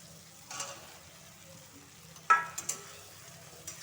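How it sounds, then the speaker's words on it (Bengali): Fried eggs and cooked spice paste in a pan give off a low, steady sizzle, broken by a few sharp stirring scrapes and clinks up close. "এবার ভালো করে কষিয়ে নেব। দেখো, মশলা থেকে তেল বেরিয়ে এসে, যার জন্য মশলাটা কষানো হয়ে গেছে।"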